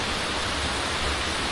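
The Panwal village waterfall, seen when its flow is low outside the rains, roars as a steady, dense broadband rush of falling water, continuous and close with no voices.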